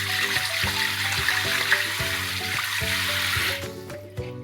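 Tap water runs steadily over raw mutton pieces being washed in a kitchen for Chettinad mutton chukka. The rushing flow is loud and close with low musical tones underneath, then cuts off near the end.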